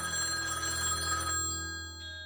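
A telephone rings at a police station, one sustained electronic bell trill that rings clearly and then fades out, with no voices.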